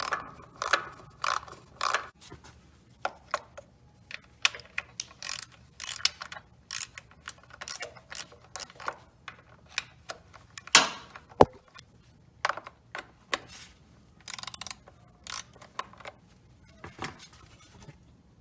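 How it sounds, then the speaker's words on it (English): A ratchet with a 10 mm socket clicks as it removes bolts on a 1999 Honda CR-V engine, heard as scattered short bursts of close ratcheting clicks and occasional metal taps with pauses between. "use your 10mm socket"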